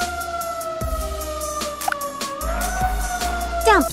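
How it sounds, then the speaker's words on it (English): A cartoon fire engine siren holds a steady two-tone wail over a rumbling engine, loud and near, with a few short bumps and a brief squeal at the end. "Fire engine."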